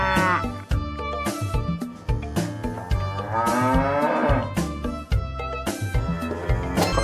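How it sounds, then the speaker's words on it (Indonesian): Cow mooing, loud and close, with repeated drawn-out moos over a busy musical toy-like background, heard while a Lego ondel-ondel set and toy cow are being shown. "ternyata di sini ada seekor sapi"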